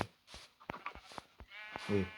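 Scattered knocks and rustling in a sheep and livestock pen, then a single sheep bleats close by near the end.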